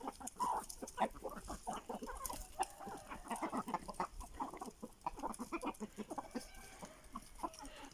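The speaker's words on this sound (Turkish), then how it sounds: "organik atıkları tavuklar çok güzel bir şekilde yiyorlar" Chickens eating organic waste cluck and peck in a quiet, irregular patter of soft calls and small scratchy sounds, faint and fairly close.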